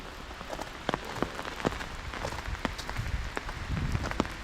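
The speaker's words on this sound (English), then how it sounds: "Still raining. Pouring, actually." Steady heavy rain patters on surfaces nearby in Lyon, France, with scattered louder drops tapping through a constant wash of downpour.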